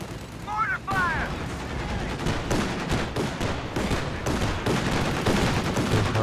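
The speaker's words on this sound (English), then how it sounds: "Mortar fire!" Rapid gunfire and explosive thuds from mortar fire and combat in the World War II strategy game Company of Heroes 2, a dense continuous barrage of loud shots and booms throughout, with a brief whistling tone early on.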